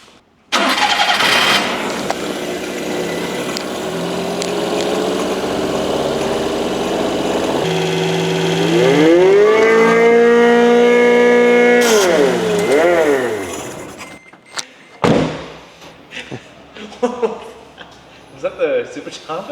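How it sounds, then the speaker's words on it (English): A tiny truck engine fitted with a cheap aftermarket supercharger starts and runs loud and close, a rising and falling high blower whine sweeping over the engine as it revs, then cutting out to scattered knocks, with talk underneath. "this thing makes a hell of a blower noise, blow a whine"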